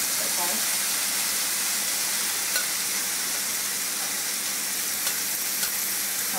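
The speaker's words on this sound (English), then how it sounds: "What we do is we grill this fish pieces for a couple minutes on each side" Fish pieces on a grill give off a constant, dense hiss and sizzle, fairly close, with a few faint ticks and pops and no voice over it.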